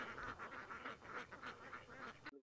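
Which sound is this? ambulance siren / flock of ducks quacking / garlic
flock of ducks quacking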